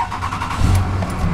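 A grey Ram 2500 pickup with a Banks tuner and about 199,660 miles turns over and catches, settling into a loud, close, steady idle rumble.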